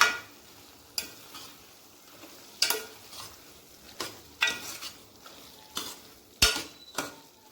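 A spoon stirs soya chunks into a curry in a pot, giving a soft sizzle broken by about eight sharp scraping knocks on the pan, close and alone with no voices.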